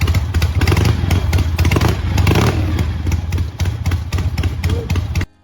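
A vintage Harley-Davidson Sportster XLH motorcycle engine runs steadily up close, a loud, continuous low-pitched throb with faint clatter and no pauses.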